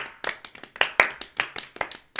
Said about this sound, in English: I'm going to give it a slow clap.